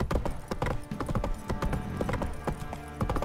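Horse hooves clip-clop in a quick, steady rhythm in the video game Witcher 3, close and moderately loud, with no talking.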